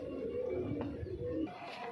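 Young Punjabi Malwai pigeons cooing, soft low throaty coos repeating close by in a quiet setting, with no talk over them.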